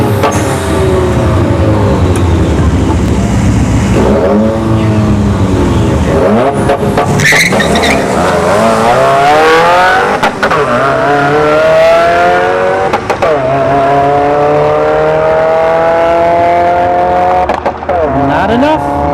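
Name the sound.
Mercedes CLK 550 and Subaru WRX drag racing down the strip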